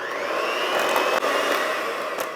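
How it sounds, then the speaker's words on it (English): An electric mixer whirs continuously while mixing homemade sweet mustard, a loud, steady motorized drone that holds an even pitch throughout. "And now I will switch to an electric mixer, and I will mix this for about 5 minutes."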